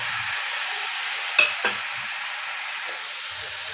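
Tomato paste stirred into cooked masala in which the oil has separated, a soft, even sizzle broken by a couple of quick scraping strokes, heard alone at a moderate level without voices.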